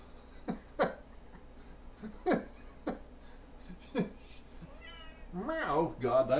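A cat meows several times in short, separate cries, ending in a longer drawn-out yowl, with a person's voice nearby.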